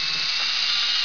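A power drill whines steadily as it drives long 1 5/8-inch screws through a front post into a rail of a clamped wooden Adirondack chair, one continuous loud close burst.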